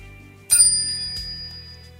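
A bright bell sound effect chimes twice, a sharp ding followed by a second softer strike, each leaving a clear, lingering ring over near silence.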